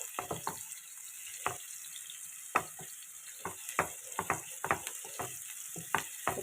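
Chopped medium onion frying in hot oil in a pan while making palak aloo sabzi, heard as a steady sizzle with frequent sharp crackles and pops at an irregular pace, close up and with no talking.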